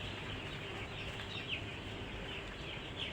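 Chicks peeping softly in an indoor pen on a small farm, a steady wash of faint high chirps with a couple of sharper peeps standing out, no voices.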